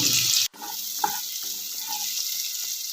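Boiled maan kochu (giant taro) pieces fry in hot mustard oil with a constant bright hiss, after a sudden drop out; faint clinks from the pan sound over the steady sizzle.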